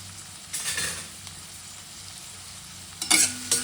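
Onions fry in a pan with a low steady sizzle, broken by a couple of brief scraping stirs, close up and with no talking.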